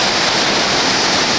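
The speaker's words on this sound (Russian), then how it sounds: "Вот это волны разбиваются" Pacific Ocean waves break near Redondo Beach pier in Los Angeles, producing a loud, continuous broadband wash of surf that fills the short stretch without pause.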